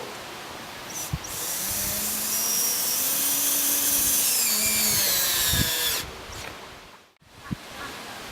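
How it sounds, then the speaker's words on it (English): Drill whirs steadily for about five seconds as a power tool drives screws into a caravan aerial mast, a loud continuous buzz starting and stopping abruptly, with a few knocks before and after. "continue putting in the rest of the screws"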